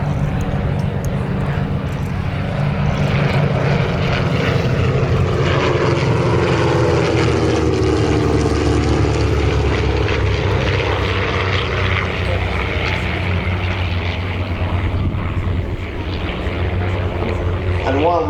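Vintage SE-5A and Sopwith Pup biplanes fly at an airshow, their propeller engines droning loudly and steadily throughout with a slowly shifting pitch as they pass.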